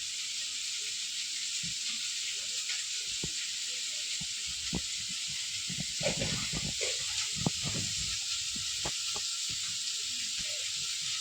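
Onions sauté in a pan for a mushroom curry, giving a steady broad hiss of frying throughout, with a few soft stirring clatters and scrapes near the middle and no talking.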